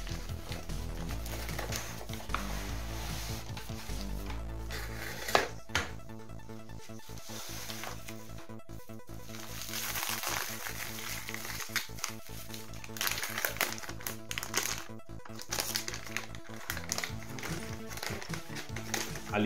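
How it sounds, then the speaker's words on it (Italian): Packaging for an electronics solder kit is opened close by, with scattered taps, rustles and crinkles of cardboard and plastic over a quiet background and occasional sharper knocks. "ricominciamo da capo e apriamo la confezione del kit di montaggio"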